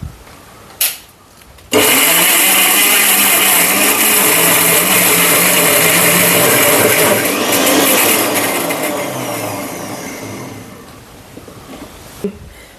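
A kitchen mixer grinder blends banana into a paste, its motor roaring loud and steady for about ten seconds after a couple of short clicks, then winding down near the end.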